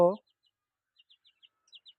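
A short voice at the start, then faint, quick high chirps from tiger chicken chicks, scattered peeps in small bursts.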